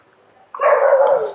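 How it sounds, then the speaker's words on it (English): A single short dog bark, loud and close, breaking out of near silence and fading quickly. "Camera goes on, dog starts barking."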